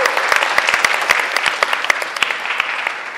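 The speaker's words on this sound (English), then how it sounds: "Yeah, make some noise for Jordan, everybody" An audience at a Taste of Asia gala breaks into loud, steady applause, dense clapping with a few sharper claps standing out, no speech over it.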